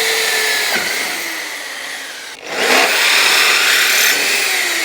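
A loud, steady whine of a power drill running close by while building an electric go-kart, dipping briefly midway before spinning back up at full speed.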